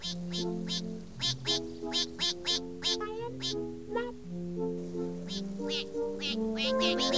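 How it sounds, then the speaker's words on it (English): Bright, repeated duck quacks ring out over a bouncy run of sustained musical tones, rising and falling in quick bursts throughout, with no speech. "Duck, of course. Oh, a duck."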